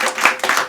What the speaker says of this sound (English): let us give our President General a strong round of applause